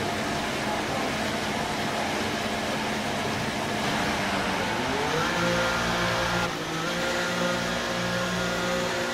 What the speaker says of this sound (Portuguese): Atenção pessoal, o carro tá saindo.